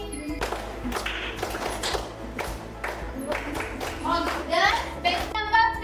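Schoolchildren on a boys' bench clap their hands during a summer camp abacus class, quick scattered claps mixed with lively kid chatter and a teacher's voice in a busy classroom.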